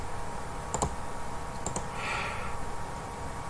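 A few brief keyboard clicks come in two small bursts as a command is typed on a computer, faint and close over a steady background hiss.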